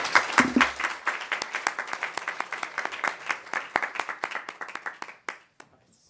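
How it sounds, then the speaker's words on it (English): Applause from an audience of moderate size at a research assessment panel event at Imperial College London, a dense patter of clapping hands that builds quickly, holds steady, then thins to a few scattered claps and fades out. "Please give our panelists a round of applause."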